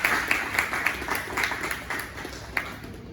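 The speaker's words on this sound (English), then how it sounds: "please join me in welcoming him with a huge round of applause" Audience at a college research talk applauds to welcome the speaker, a modest scattering of distinct claps with a few sharper ones standing out, gradually thinning toward the end.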